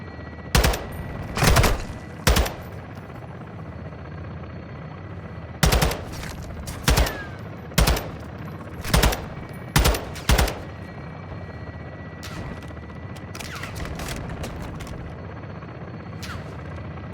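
Video game gunfire: sharp bursts of automatic shots come in loud clusters separated by pauses, over a steady low background rumble, with no speech.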